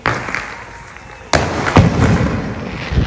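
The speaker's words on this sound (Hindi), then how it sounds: "बम भी फूट गए ना भाई" Diwali firecrackers burst near and loud: one sharp bang cracks out partway through, followed by a rumbling, crackling spray of further pops and thuds, with faint background voices and crowd noise.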